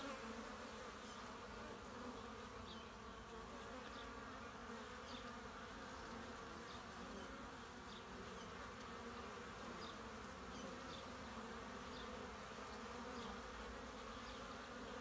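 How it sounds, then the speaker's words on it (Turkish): Honeybees make young-bee orientation flights outside their hive on a warm late-November day, producing a steady, even buzzing hum of many insects with faint individual passes and no talking. "Yavru uçuşu yapıyor arımız."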